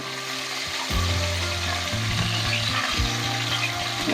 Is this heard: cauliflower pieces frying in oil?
yes